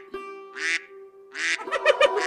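Cartoon ducks gathered near a witch's home quack in two loud, fast bursts over a steady tonal music bed, with no talking.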